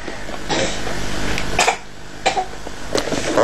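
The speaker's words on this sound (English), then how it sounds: "Cough, cough." A few short, sharp coughs break through a steady background noise, with some rustling between them, close by.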